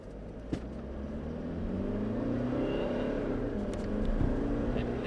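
Toyota Fortuner GR Sport SUV accelerating, its engine note rising steadily over several seconds into a sustained loud roar, heard from inside with no talking.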